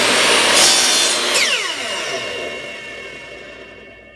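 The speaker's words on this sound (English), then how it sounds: "So now we're just going to square up our ends of our scrap wood on the chop saw." A chop saw cuts through a piece of scrap wood for a walnut box build, a loud broadband whine for about a second, then the blade spins down with a falling pitch and fades over a few seconds.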